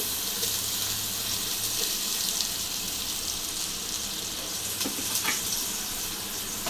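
Onions sauté in about 100 ml of oil for a biryani dalcha, making a steady, moderately loud hiss and sizzle with a few faint clicks, and no speech.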